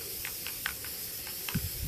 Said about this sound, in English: She obviously doesn't like the sound of the spray can.